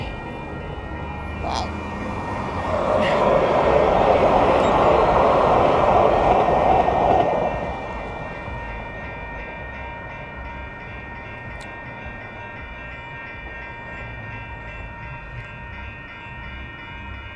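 A train rumbles past close by a bike path, a loud swelling roar that fades into a steady lower drone, with one brief exclamation from a rider.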